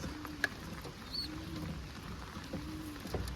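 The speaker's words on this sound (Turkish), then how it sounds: "Çok yağmur yağıyor." Heavy rain falls at night outside a front door, a steady soft hiss throughout with a few faint high chirps over it.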